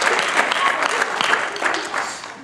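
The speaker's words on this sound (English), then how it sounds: "Let's give God a big old clap of praise, y'all, before you're seated." A church congregation claps in praise, a dense burst of hand claps with a few loud individual claps standing out, while voices call out over it.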